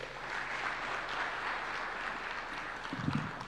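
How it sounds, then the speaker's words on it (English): Audience applause at a lunch hosted by Kenya's president for the Harambee Stars national football team, a broad steady wash of clapping held at a moderate level for several seconds, with a brief voice near the end. "I think a bigger clap for McCarthy, Benny McCarthy."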